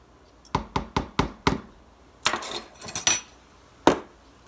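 A bowl of aquafaba with vanilla and cocoa is beaten by hand: a run of five sharp, evenly spaced knocks of a utensil against the bowl, then a clattering burst of strokes and one last clink.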